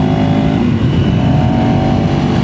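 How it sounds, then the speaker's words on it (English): KTM 390 Enduro R single-cylinder motorcycle engine drones loudly and steadily at low to moderate riding speed, a continuous close-up motor hum with wind rumble and no talking. "I can definitely feel that engine loosening up now."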